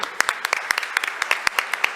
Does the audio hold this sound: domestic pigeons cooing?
no